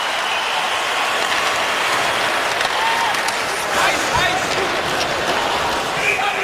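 Hockey arena crowd applauding and cheering after a strong shift by the Minnesota Wild against the Los Angeles Kings, a steady dense wash of clapping and crowd noise throughout, with a commentator's voice faintly under it.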